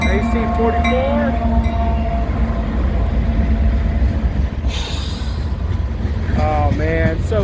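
An AC44 locomotive pulling a train past at Canal Ridge Road, a loud, steady close rumble of engine and rolling cars throughout, with a brief hiss midway and horn-like tonal notes at the end.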